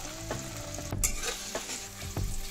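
Tomato and corn cooking in a pan with spinach puree nearby, a soft continuous sizzle with a few scraping stirs and light clatters of a spoon.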